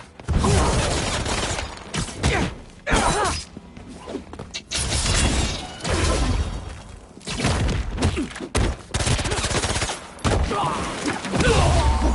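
Rapid bursts of gunfire crackle in the Spider-Man 2 video game, loud repeated volleys broken by short gaps, with thuds and impacts mixed in throughout the fight.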